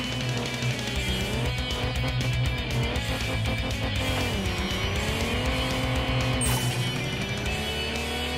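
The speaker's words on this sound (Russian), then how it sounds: "И первый соперник у нас Алекс Петров на Ford Crown Interceptor" A Ford Crown Interceptor revs hard in a drag racing video game, its loud engine climbing steadily in pitch through a few gear shifts, with a continuous roar and no pauses.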